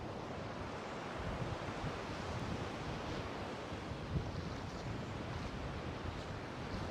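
Ocean surf washes onto the shore at Folly Beach near Charleston, South Carolina, on an overcast day, a continuous broad rushing wash mixed with gusty wind buffeting the microphone.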